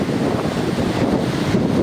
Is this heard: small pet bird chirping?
no